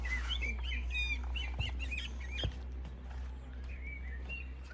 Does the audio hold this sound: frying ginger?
no